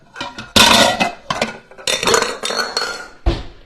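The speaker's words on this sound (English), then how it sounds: "I'm actually going to whisk it right into the container." A whisk clatters and scrapes briskly inside a container, mixing a soy, honey and lime juice glaze, with loud, uneven metallic clinks and rattles close by.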